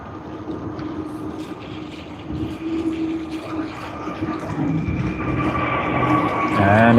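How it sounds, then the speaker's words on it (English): An Airbus A321-200 LR jet on its takeoff roll at Sydney Airport produces a rising, distant engine roar with a broad rumble that gradually swells in loudness. "We should see it anytime as it has commenced its takeoff roll."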